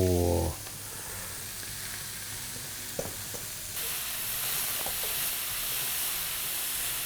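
Mushrooms go into hot oil in a pan and set up a steady close sizzle that grows slightly louder partway through, with a few faint clinks of utensils and no talking.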